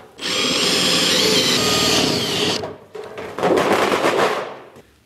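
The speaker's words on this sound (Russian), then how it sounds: "До того, как я прорежу вот этот радиус, мне необходимо просверлить в центральное отверстие для крепежа" A power drill bores a central fastener hole through plywood in a woodworking shop, with a loud steady whine for about two and a half seconds, then a brief pause and a second rougher burst that fades out.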